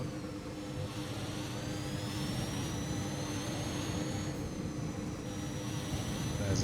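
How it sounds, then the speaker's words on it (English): An F1 2021 video game race car engine sounding electric, a steady, even whine and whoosh with faint rising tonal lines held throughout, close and continuous with no talk. "engine noises on some vehicles still a problem in F1 2021"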